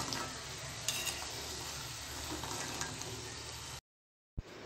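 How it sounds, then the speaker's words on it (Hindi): Sakkarpara, a sweet dough snack, frying in oil over a low flame, giving a steady close sizzle and bubble with a few faint clinks, cutting out briefly near the end. "ऐसे ही हमें धीमी फ्लेम पे ही गोल्डन फ्राई हो तब तक हमें उसका फ्राई करना है।"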